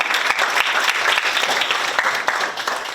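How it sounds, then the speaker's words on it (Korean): Steady, dense audience applause fills a hall at a Korean community council's inaugural ceremony in San Francisco, welcoming an arriving guest; many hands clap close and loud throughout, with no talking over it. "여러분 큰 박수로 환영해 주시기 바랍니다"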